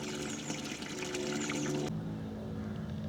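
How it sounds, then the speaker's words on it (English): Water from a spring flowing into a byway, a steady broadband trickle and rush heard close, louder at first and dropping in level partway through, with no talk. "Amazing, there's a spring in there. Which then flows onto the, or into the byway."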